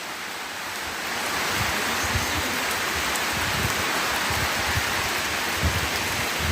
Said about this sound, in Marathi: आत्ता पाऊस सुरुवात झाली